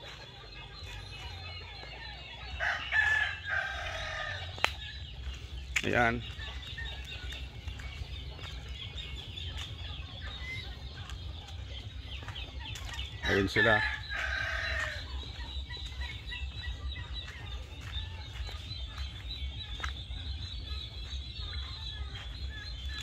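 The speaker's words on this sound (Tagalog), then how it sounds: "mga wild chicken, yan, mga native chicken" Native free-range chickens on a small ranch cluck softly and continuously while a rooster crows twice, each crow a loud, rising-then-falling call well apart from the other, over steady farmyard hum, with a brief spoken remark.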